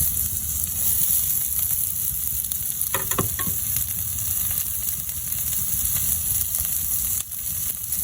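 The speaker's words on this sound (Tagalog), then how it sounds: "pagbabrownin lang po natin ng konting-konti ang ating bawang" Garlic and onion sautéing in a pan, a steady close frying sizzle that runs throughout, with a few brief stirring clatters partway through.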